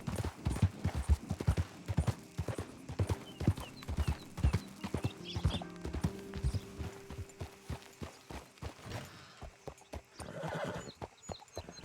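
Horse hooves clip-clopping in Red Dead Redemption 2, a steady run of loud, close hoofbeats with whinnies and occasional game sounds, fading somewhat toward the end.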